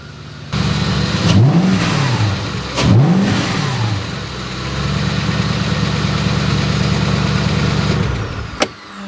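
A Porsche 986 Boxster fitted with a swapped V8 engine starts up and idles with a deep rumble. Two quick revs rise and fall early on, then it holds a steady idle up close before a sharp click near the end.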